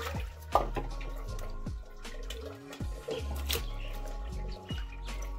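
Water drips and splashes in irregular bursts while pieces of pulasa fish are rinsed clean, with soft trickling and small plopping sounds close by.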